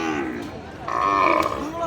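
A cow lowing at a cattle market, one sustained close moo that rises and holds over low background murmur.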